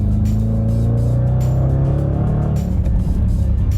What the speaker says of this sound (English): in sport mode, you can get the rear to slip out, which is really nice